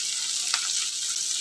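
Onion and curry leaves frying in hot oil on a gas stove, a steady close hiss of sizzling with a brief crackle partway through.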